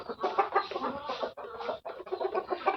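Tiger breed chickens on a farm cluck and chatter in quick overlapping bursts, several hens close by with brief gaps between phrases and no talking.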